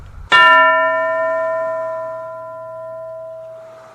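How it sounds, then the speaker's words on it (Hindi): A classroom bell is struck once and gives a bright, ringing tone that rings on and slowly fades over several seconds, heard alone without talk. "अब जब घंटी बजेगी"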